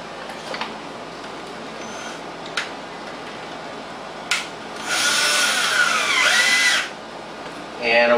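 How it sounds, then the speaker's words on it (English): A power drill runs screws into an ozone generator housing, with faint clicks and taps followed by a loud two-second whir of the drill spinning up and driving a screw. "running in 4 simple screws"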